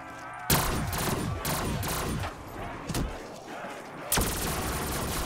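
Gunfire in a Call of Duty custom zombies map: loud bursts of rapid automatic shots, with a couple of sharper single blasts between them, continuing through the clip without talking.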